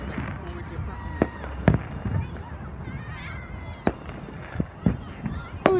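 Fireworks burst far off over a neighborhood, scattered sharp pops and booms at irregular intervals, with some whistling trails, while people talk nearby.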